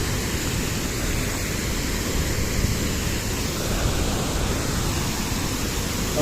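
A powerful waterfall in Kenya roars as a steady, dense wash of broadband noise, unbroken and close, with no voices over it.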